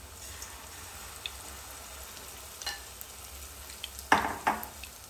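Potato pakoda (bhaji) frying in hot oil over a low flame, a soft continuous sizzle with a few louder scraping stirs near the end and no speech.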